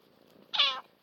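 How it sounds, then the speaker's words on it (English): A single short cat meow, close and clear, rises out of near silence and fades quickly. "Old mama cat."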